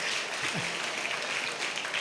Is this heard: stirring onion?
no